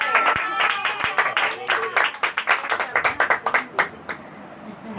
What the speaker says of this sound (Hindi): जब हम लोग कहते हैं कि जोरदार तालियां बजाए, तो खूब दिल खोल के तालियां बजाया करें